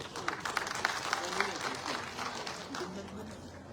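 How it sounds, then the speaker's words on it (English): A crowd applauds steadily, many hands clapping together in a dense patter that fades slightly toward the end. "I would like to request to give once again a huge round of applause for Sir Professor N. Rajmohan Singh."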